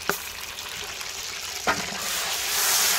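Tomatoes and green chillies fry in oil for an orange chicken curry. A continuous close sizzle rises and swells, with two sharp clunks of ingredients or utensils hitting the pan.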